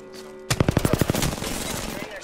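A short burst of rapid automatic gunfire in the Apex Legends video game, about a dozen loud close shots in quick rhythm, followed by a fading tail over a low background.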